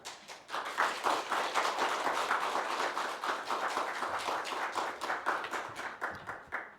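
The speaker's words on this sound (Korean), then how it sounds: "이성규 이 목사님을 이 시간 모실 때 박수로 환영하겠습니다" A church congregation claps steadily to welcome a pastor to the pulpit during a Korean worship service, a dense, sustained round of applause filling the room for several seconds with no speech over it.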